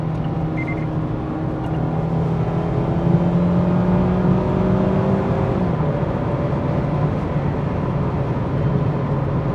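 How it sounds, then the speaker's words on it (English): A 2021 Mazda Miata driving on the road, its engine rising and falling as paddle-shifted downshifts are rev-matched, heard as a steady in-cabin hum with road noise and no talk. "it really does rev match the downshifts"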